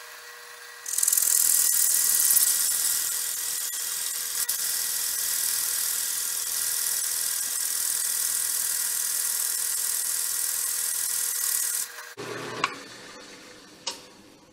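A coarse drill bit bores into a whiskey barrel stave, a loud, steady high-pitched whir that runs close and unbroken for about eleven seconds, then stops, followed by a few clunks and knocks.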